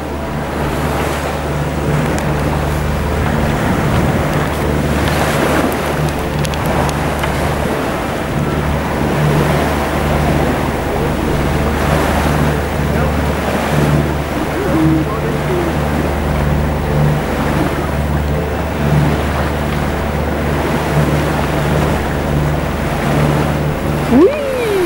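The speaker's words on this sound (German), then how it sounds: "Wir motoren jetzt mal noch, weil der Wind ein bisschen schwach ist." A sailing yacht motors across open sea off Mallorca in light wind. A steady engine drone runs under continuous rushing water and wind noise, with voices faint in the background.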